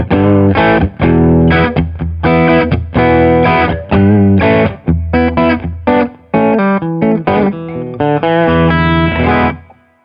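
Loud electric guitar, a Nik Huber Rietbergen, played through heavy fuzz distortion, thick chopped chords and riffs with short pauses, ending in a ringing fade.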